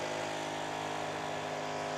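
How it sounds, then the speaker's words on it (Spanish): An electric drill runs with a steady, unbroken motor whine and rich harmonic hum, fairly faint and alone for two seconds. "¿Esto qué es un taladro?"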